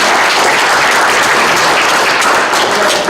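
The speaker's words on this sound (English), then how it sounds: "can we give these young folks a round of applause?" Audience at a joint city and county meeting in Buckhannon-Upshur applauding young presenters, loud dense clapping that holds steady throughout.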